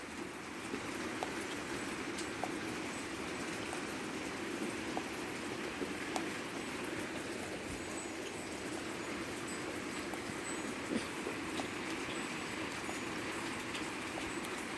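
Heavy rain pours steadily during a thunderstorm in southeastern Pennsylvania, a dense continuous hiss with scattered louder drips and taps over nearly fifteen seconds, fairly faint and unbroken, with no voices.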